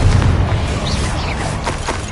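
An explosive Confringo spell blast during spell-casting combat in the video game Hogwarts Legacy: a deep, muffled boom that rolls through the opening moments, then settles into a dull, lingering rumble with no speech.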